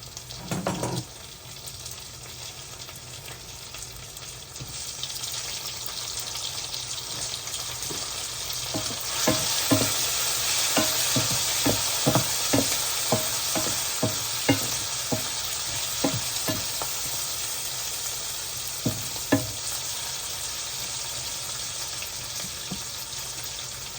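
Tomatoes fry with onions in an ivy gourd gravy, a steady sizzle broken by a run of rhythmic spatula scrapes and taps against the pan that come in bursts, then ease off.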